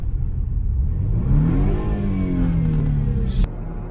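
A BMW F30 revs hard during a burnout on new rims, the engine note climbing and holding loud and close with a steady roar before dropping off sharply near the end.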